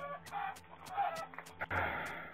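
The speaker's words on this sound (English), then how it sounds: "Chicken." Minecraft-style video game chicken clucking in short repeated bursts at moderate volume, mixed with game background noise and a brief low thud near the end.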